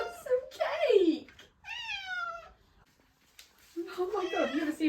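A cat meows repeatedly for Easter cake, several drawn-out, wavering cries up close and fairly loud, separated by short pauses, with no one speaking over them.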